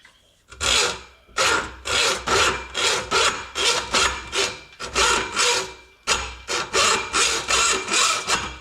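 A hacksaw cuts through a 1.25-inch pipe during a boiler mixing-valve job for radiant floor heating, giving steady rhythmic back-and-forth rasping strokes, close and fairly loud, with a brief pause midway before the sawing resumes.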